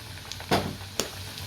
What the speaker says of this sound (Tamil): அது அப்படியே வந்து ஃப்ரை ஆகட்டும்